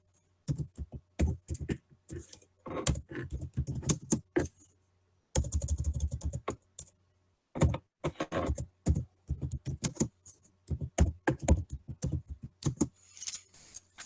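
Typing on a computer keyboard while entering a name, bursts of quick close key clicks separated by short pauses, with no voices over them.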